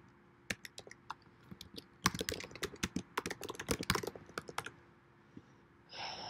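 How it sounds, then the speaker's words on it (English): Close, quiet typing on a computer keyboard, with scattered key clicks that build into a quick, dense burst of keystrokes and then thin out, followed by a short rustle at the end. "So you would type in your school name."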